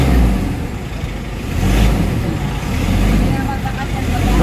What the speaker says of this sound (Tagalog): Low power yung makina, yung RPM medyo ano.